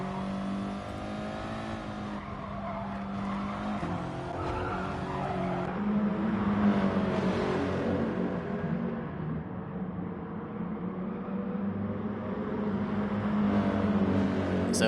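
Racing cars in a video game, including a Subaru WRX, roar with revving engines and long tire skids and squeals, the engine note climbing and dropping continuously at close range.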